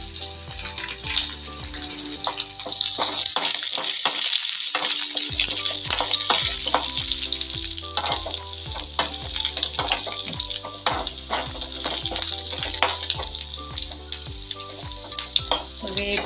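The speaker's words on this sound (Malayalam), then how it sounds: "ഇത് വഴന്ന് വരുന്ന സമയത്ത് നമുക്ക് വേപ്പിലയും കൂടെ എടുത്തിടാം." Onions and curry leaves sauté in hot oil in a pan, a loud continuous sizzle with repeated scraping and stirring strokes from a spatula, with a brief pause in the stirring early on.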